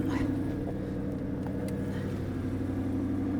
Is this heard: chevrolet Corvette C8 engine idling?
yes